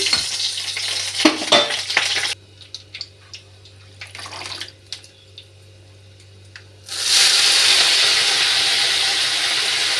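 Greens drop into a hot tempering of lentils, dried red chillies, mustard seeds and garlic, with stirring clatter, a quieter stretch, then a loud, sustained sizzle of frying rising up close.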